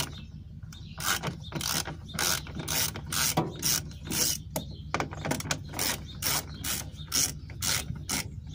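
Socket ratchet clicking in quick repeated bursts while working on a 1998 Subaru Legacy 2.2 L during a timing job, close and fairly loud with short pauses between strokes.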